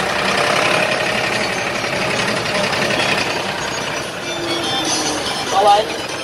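A neighbour's tractor pulling a four-furrow plough across a field during wheat sowing, its steady mid-pitched engine drone running throughout beneath someone talking nearby.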